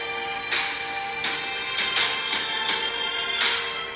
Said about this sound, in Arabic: هاي صوت موسيقى الفوز.